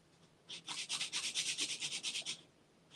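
Quick, rhythmic rasping strokes sanding a Precision Bass guitar body, about a dozen back-and-forth passes in a steady burst, close up, with quiet before and after.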